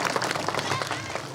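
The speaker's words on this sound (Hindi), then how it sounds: "मलिक साहब के लिए जोरदार तालियां बजा दीजिए भाई" A studio audience applauds for Malik sahib with steady, dense clapping throughout, a continuous wash of many hands at moderate volume.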